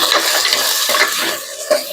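Chopped potatoes with garlic and turmeric being stirred in a pan for a Gujarati potato curry: loud, continuous scraping and clattering of a spoon against metal over a steady sizzle, close up.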